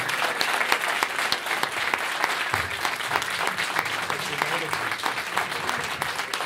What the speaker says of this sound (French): J'aimerais vraiment de lourds applaudissements, s'il vous plaît.